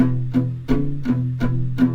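Five strummed guitar chords of a blues progression in a steady rhythm, each attack ringing into the next, played clearly and close with no talking.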